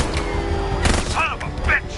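A few sharp gunshots in a Batman Arkham game sound close and loud over a rumbling background, with shouted voices mixed in.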